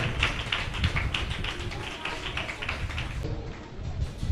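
Many hands clap together in a church at a prayer gathering with gifts for children and the elderly, a dense, even patter of claps that continues without a break throughout.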